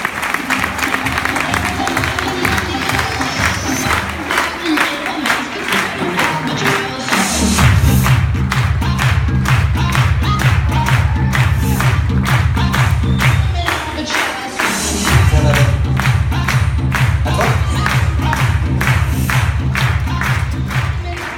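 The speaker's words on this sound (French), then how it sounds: "Je vous demande d'applaudir s'il vous plaît, Sandra Noël." An audience applauds a guest speaker at a French business talk about a private Facebook group. The clapping is dense and sustained, loud throughout, and swells after a few seconds.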